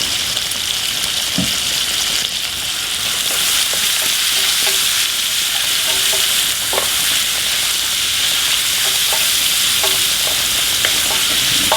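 Garlic and bacon fry hard in a pan for chicken carbonara, filling the air with a loud, dense, continuous sizzle and crackle, with occasional light knocks from stirring.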